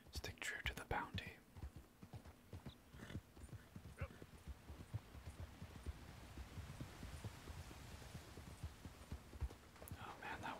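Horse hooves clip-clopping in a steady rhythmic gait while riding in Red Dead Redemption 2, soft and close, heard under quiet whispered talk with an occasional whinny.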